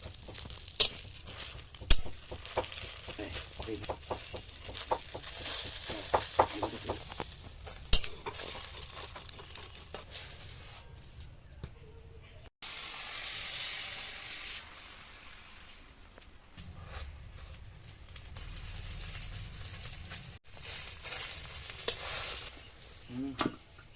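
Fish sizzles softly in hot oil in a home kitchen pan while being gently turned and stirred, with scraping and light clinks over a steady low frying hiss, quiet and close, with no one talking.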